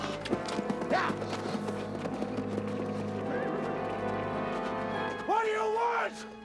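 A horse's hooves clip-clop at a steady pace beneath tense shouting in a 1987 miniseries drama, with a whinny near the end and a background music bed.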